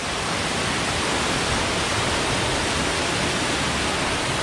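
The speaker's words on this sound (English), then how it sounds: "An amazing waterfall" A waterfall pours into a pool, a dense, unbroken broadband roar heard close and loud, steady from start to finish with no voices over it.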